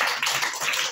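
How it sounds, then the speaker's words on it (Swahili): A church congregation claps together during a sermon, making a dense, steady burst of many hands slapping at once that fills the space for a second. "Nitie Bwana Yesu makofi."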